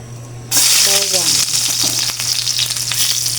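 Garlic hits a hot pan and bursts into a loud, steady sizzle that carries on throughout, with a few faint stirring clinks and a brief murmur of voice early on.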